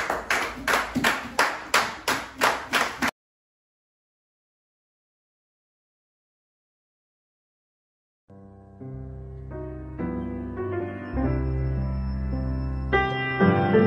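Congregation clapping in praise at a church service: loud, evenly spaced hand claps in a steady rhythm for about three seconds, then silence before music begins.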